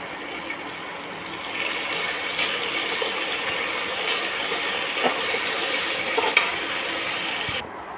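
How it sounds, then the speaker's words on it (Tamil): Garlic, slit green chillies, coriander and curry leaves sauté in a pan with a steady close sizzle, broken by occasional stirring clinks and scrapes, with no talking. "ரெண்டாக கீறின 3 பச்சை மிளகா, இது எல்லாத்தையும் ஒரு வதக்கிக்கலாம்."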